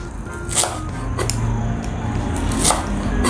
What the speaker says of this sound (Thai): เราจะมาซอยชีฝรั่งกัน